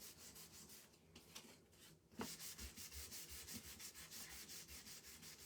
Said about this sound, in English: So I'm going to kind of scuff it up a little bit.